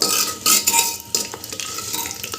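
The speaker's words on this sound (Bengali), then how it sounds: "মশলাগুলো দিয়ে একটু নাড়াচাড়া করে নেব" A spoon scrapes and clatters around a metal handi pot, stirring spices for mutton curry in quick irregular strokes over a light sizzle, close and fairly loud.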